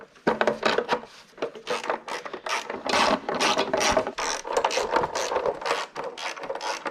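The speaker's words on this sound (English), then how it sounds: "go ahead and grab a 10mm socket and screw in all the corresponding bolts" A 10mm socket ratchet clicking rapidly as bolts are driven during an engine install in a 2009 Mini Cooper, with close, steady ratcheting in repeated strokes.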